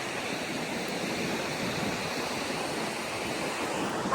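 Ocean waves wash onto a beach where people are camping. They make a steady, moderately loud rushing surf with some wind noise on the microphone, and there are no voices.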